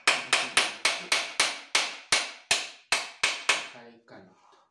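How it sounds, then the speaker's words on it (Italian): A hammer strikes metal about a dozen times in a steady, sharp rhythm while a children's mountain bike is being restored, each blow loud and close, the last few tapering into small clinks. "martello"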